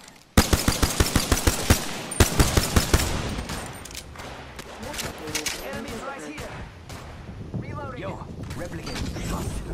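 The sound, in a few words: gunfire in the video game Rocket League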